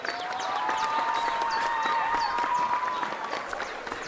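Crowd applause and cheering inside the video game Kingdom Come: Deliverance II, a steady, dense wash of clapping that holds at an even level for about four seconds under faint game tones.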